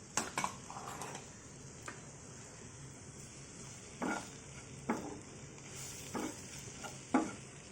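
A spoon stirs fenugreek powder into homemade bottle gourd pickle, giving soft scraping and clinking strokes against the pot at intervals over a faint background hiss, quiet and close.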